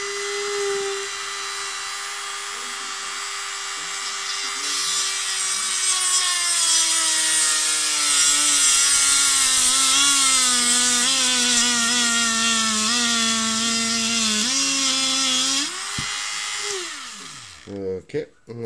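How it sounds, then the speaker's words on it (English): A rivet pushed through a plastic radio base using friction heat from a spinning tool: a loud, steady high whine that slowly drops in pitch under load, then cuts off with short bursts at the end. "I'm using friction heat to push the rivet through the plastic of the base"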